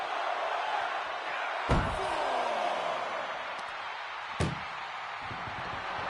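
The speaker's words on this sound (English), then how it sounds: "Hitting and slam, this door shut, it's over." In the WWE 2K25 wrestling video game, an ambulance door slams shut twice with sharp, heavy metallic bangs a few seconds apart, set against a steady arena crowd roar.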